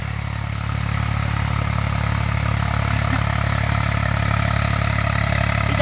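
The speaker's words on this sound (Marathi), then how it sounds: "ट्रॅक्टर चालू आहे, त्याच्यामुळे तुम्हाला ट्रॅक्टरचा आवाज येईल." A farm tractor idles nearby in a field, its engine giving a loud, steady, droning hum that holds unchanged throughout with no voices.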